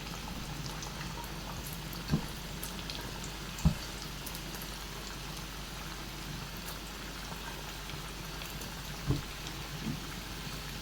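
Banana slices for sweet banana chips deep-fry in hot oil, giving a steady, close crackling sizzle with a few faint clicks and pops scattered through it, and no talking.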